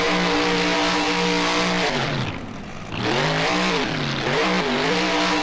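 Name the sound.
monster truck doing donuts, from the video game BeamNG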